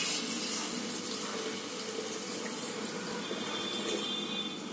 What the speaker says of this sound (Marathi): आता मी कुकर मध्ये पाणी घालते